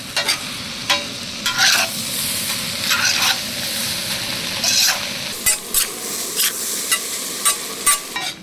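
Rice being stirred in a frying pan for vegetable mixed fried rice: repeated scraping strokes of a spatula over a steady sizzle and hiss, close and fairly loud, with no talking.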